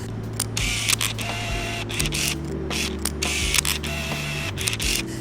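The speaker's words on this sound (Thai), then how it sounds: "เสียงการลากฟิล์มเนี่ยมันค่อนข้างดังครับ" A Minolta TC-1 film camera's motor whirs and clicks mechanically for several seconds as film advances, a steady close grinding hum with small ratcheting ticks.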